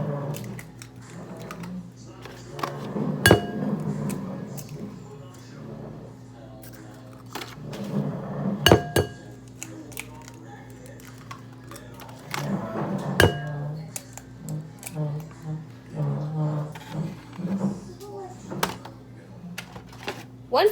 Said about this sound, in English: Next, you are going to crack your eggs.